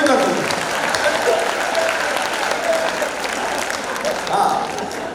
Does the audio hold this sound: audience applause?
yes